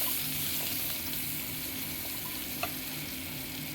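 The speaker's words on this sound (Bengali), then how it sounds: "পেঁয়াজটা একটু ভেজে নিচ্ছি আগে।" Sliced onion frying in a pan with oil for a taro and shrimp curry, giving a steady, fairly quiet sizzle that holds evenly throughout, with one brief tap near the end and no talking.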